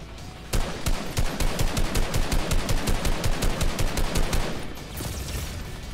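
Rapid automatic gunfire in a Fortnite duo match, a sustained burst of evenly spaced loud shots lasting several seconds, then tapering off into quieter background game noise.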